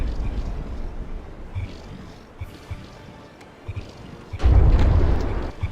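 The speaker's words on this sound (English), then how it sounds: "Papel taking another single shell hit there" Warship in the From The Depths game taking shell hits during a frigate tournament battle: a rumbling low background with scattered dull thuds, then one big booming explosion near the end that slowly fades.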